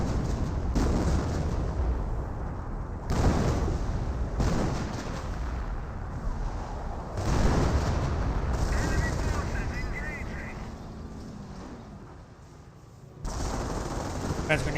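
Mortar and Flak 88 fire in the World War II strategy game Company of Heroes, with heavy repeated booming blasts and rattling gunfire in dense bursts, loud and continuous with brief gaps between volleys.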